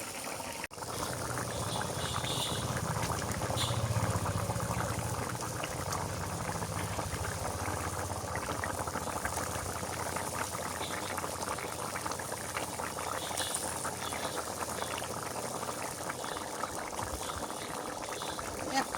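A pumpkin and fried fish curry bubbles steadily in a pot, a continuous moderately loud boiling that runs the whole time with faint background voices now and then.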